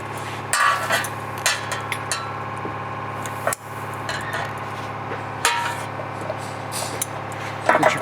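A metal clamp is fitted back onto a line beside a control box: a few sharp clicks and taps break through a steady, close mechanical hum, with no one talking.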